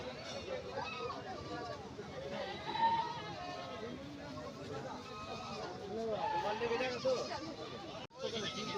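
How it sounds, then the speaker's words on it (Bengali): Goats bleat at intervals at a busy weekly goat market in Uluberia, a crossbred goat among them, with a steady hubbub of crowd chatter and people talking all around. "এখানে একটা ক্রস ছাগল রয়েছে"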